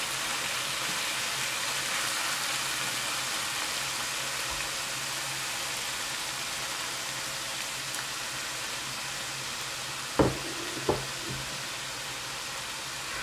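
Steady, close sizzling of pork bulgogi frying in a hot pan, a continuous crackling hiss with a couple of sharp clacks near the end.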